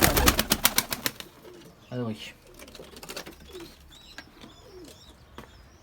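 Mardin pigeons coo softly in a loft, with a few low calls and light chirps, after a burst of rhythmic tapping at the start; someone speaks briefly.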